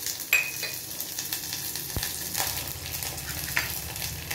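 Urad dal, cumin and curry leaves fry in hot oil on low flame for rasam tempering, a close, steady sizzle with stirring and a sharp metallic tap on the pan.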